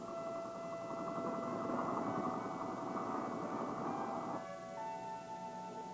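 Military helicopters flying over hostile Vietnam jungle, a steady droning rotor and engine roar that holds at an even level, then drops slightly and thins near the end, with no voices.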